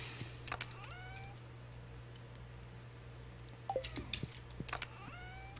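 A cat meows in the Stardew Valley video game, a couple of short rising meows near the start and another pair near the end, over a quiet steady hum with scattered clicks.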